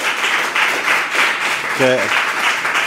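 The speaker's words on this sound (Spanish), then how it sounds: "pedirles un fortísimo aplauso para Laura Pérez Bernetti" Applause from an audience at a comic book presentation, steady clapping filling the room for the author, loud and close, with a brief voice breaking in near the end.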